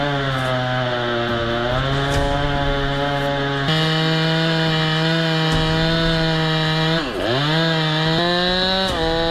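A big chainsaw drones loudly and continuously as it cuts through tree logs, its high buzzing pitch shifting slightly and dipping briefly as the blade bites under load.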